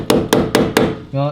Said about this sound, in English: Just whacking some metal with a hammer.